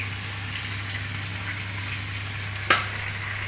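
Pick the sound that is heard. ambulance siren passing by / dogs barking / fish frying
fish frying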